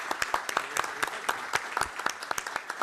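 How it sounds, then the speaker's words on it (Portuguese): A small audience at a morning innovation event applauds, a sparse, close patter of individual claps with clearly separate hand strikes, steady for a few seconds. "a quem eu peço uma salva de palmas"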